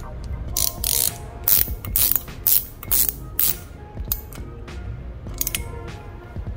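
A 17mm ratcheting wrench tightens an oil catch can fitting on a Genesis G70/Kia Stinger, giving close, loud bursts of rapid clicking separated by short pauses.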